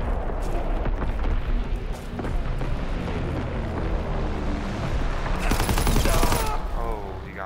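Dense artillery barrages and gunfire fill a Call of Duty: WWII match, with continuous rumbling booms, crackling shots and a louder burst of blasts near the end, all steady and close throughout.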